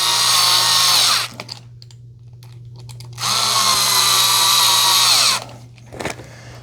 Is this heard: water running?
no